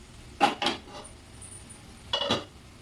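A metal lid comes off a cooking pot of spiced vegetable masala: two quick close clanks, a brief pause, then two more metallic knocks against the pot.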